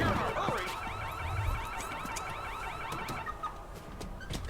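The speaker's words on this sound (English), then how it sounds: "Love the car alarm sound." A car alarm wails in the wrestling video game SmackDown vs Raw 2009, its rapid warbling, cycling tones repeating continuously at moderate volume alongside scattered clanks and thumps of game action.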